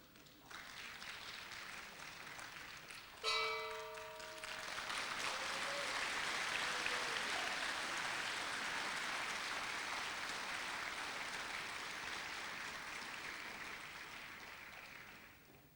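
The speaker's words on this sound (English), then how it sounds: "Please, another round of applause." An audience at a forum opening ceremony breaks into sustained applause that swells after a brief tonal sound and holds steady for many seconds, a dense wash of clapping that slowly fades.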